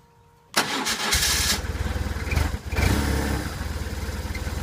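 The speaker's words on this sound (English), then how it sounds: "it's been sitting for about a month, but it fired right up" A motorcycle that has sat unused for about a month cranks and fires up, a sudden loud start settling into a rough, pulsing idle close by.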